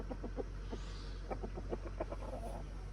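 Chickens cluck steadily inside a coop, a series of short, close clucks repeating irregularly throughout, with no talking.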